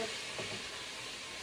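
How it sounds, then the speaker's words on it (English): Onions, celery and carrots are stirred in a pot for ham and bean soup, giving a brief, soft, close hiss and sizzle with a light scrape, with no talk. "I'm stirring it up to get the onions and the celery and carrots"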